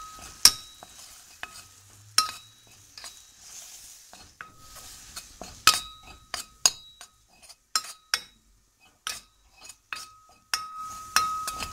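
Butter and flour cooking in a pan for a lasagna sauce, with sharp spoon clinks and scrapes against the pan at irregular intervals over a faint sizzle, close and clear with no talking.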